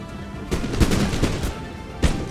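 Naval cannon fire against pirate ships in Empire: Total War, a ragged series of booming shots that rumble together and then break off, ending with one last heavy blast.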